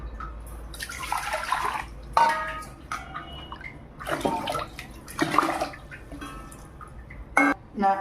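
Water poured into a pressure cooker holding millet rice, several bursts of splashing and trickling that start and stop across the span, close and moderately loud with no talking.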